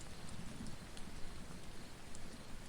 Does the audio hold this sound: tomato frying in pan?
no